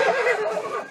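A horse neighs in a long, loud, wavering whinny that fills the whole moment, close by and without voices over it.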